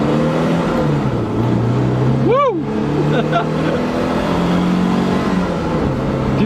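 A 1970 Alfa Romeo Giulia Super 1600 accelerates on the road, its four-cylinder engine revving up and dropping through a gear change, loud and close from inside the car, with a brief excited shout from an occupant.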